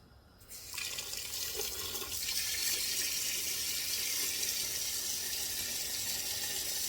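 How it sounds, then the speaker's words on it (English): Running tap water pours steadily into a pot, a broad continuous rush that starts abruptly after a brief quiet moment and holds throughout. "you want to make sure that you fill the pot with water"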